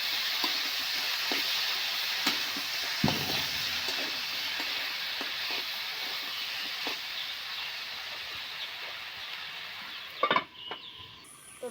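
A jackfruit seed curry sizzling and frying in a pan, a steady bright hiss running throughout, with scattered clicks and scrapes of stirring and a louder clatter near the end.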